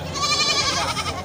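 A goat bleats loudly and close at a livestock market, one wavering, drawn-out call filling the moment, with crowd noise faint beneath.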